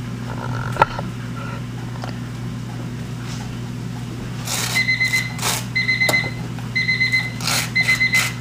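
A kitchen timer signals boiled eggs are done with repeated rapid electronic beeps in short bursts, fairly close, over a steady low hum of kitchen background noise.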